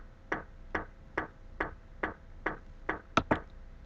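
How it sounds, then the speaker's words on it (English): Evenly spaced kick drum thuds in FruityLoops Studio 10 keep a steady beat, about two per second, ending with a quick double hit; quiet and without voices. "add a kick to every fourth note"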